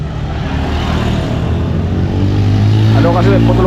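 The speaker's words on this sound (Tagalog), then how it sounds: "Daming motor." Heavy motor traffic on a congested road, with engines droning steadily and one vehicle rising louder near the end, while people talk over it.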